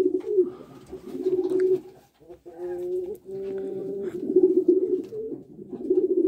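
A pair of Komaron tumbler pigeons coo repeatedly in a loft: close, full, throaty warbles in several long phrases with only brief pauses between them.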